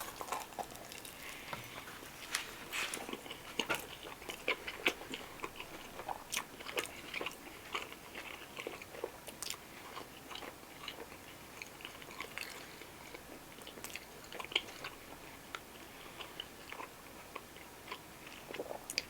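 Quiet, close bites and wet chewing on a Wawa Philly cheesesteak dressed with cheese sauce, ketchup, mayo and caramelized onions, with irregular soft crunches and mouth sounds throughout and no talking.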